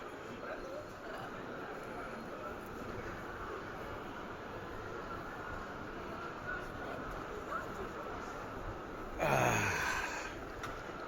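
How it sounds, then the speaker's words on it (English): Busy Termini metro station ambience on Rome's Line A, with a constant hiss and murmur, then a sudden sharp rising screech near the end, like a train's brakes or wheels. "The chaos that is the train stations here in Europe."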